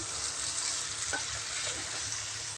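Okra curry with ground coconut paste sizzles steadily in a pan, a close, even frying hiss with a faint stir or scrape partway through, then cuts off abruptly at the end.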